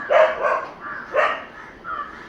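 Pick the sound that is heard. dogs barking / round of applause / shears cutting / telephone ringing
dogs barking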